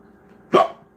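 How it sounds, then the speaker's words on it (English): A single sharp hiccup sounds close and loud, one brief burst against a quiet background. "Oh, God, hiccups."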